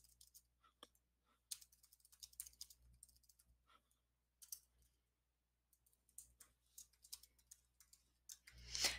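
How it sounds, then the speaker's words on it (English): Typing on a computer keyboard in a writing app, with irregular bursts of quick, light key clicks separated by short pauses, close up and fairly quiet, ending in a denser, louder flurry of keystrokes. "I'm just typing gibberish to keep focus mode on"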